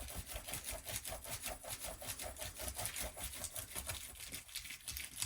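A metal tool burnishing deli paper flat onto polymer clay gives steady, rhythmic rubbing and faint crinkling strokes, close and continuous for several seconds with no talking.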